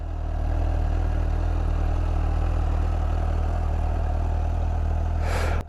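A 2019 Suzuki GSX-S 750 in its A2 version ticks over at a steady idle, a low continuous engine drone heard close and alone, cut off abruptly near the end.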